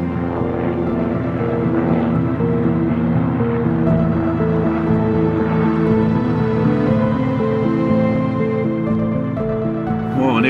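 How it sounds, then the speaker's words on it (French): Seaplane engine running steadily, a loud continuous droning hum with rich harmonic tones that holds without a break throughout, and no voices over it. "On va avoir du bruit par un hydravion qui tourne."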